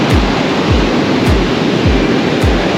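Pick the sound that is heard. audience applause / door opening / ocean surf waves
ocean surf waves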